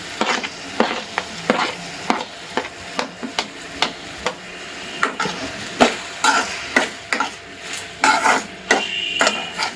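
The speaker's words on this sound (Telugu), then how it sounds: "మునక్కాడ గుజ్జుని అది కూడా ఇందులో కలిపేస్తున్నాను" Drumstick pulp being stirred into tomato chutney in a pan, a spoon scraping and clacking against the metal in steady repeated strokes, close and loud, with a faint sizzle underneath.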